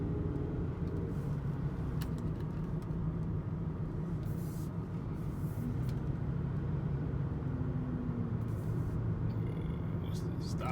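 A 2003 Toyota Camry cruises on a test drive, its engine and road rumble forming a steady low drone inside the cabin, with faint clicks and shifts in the background.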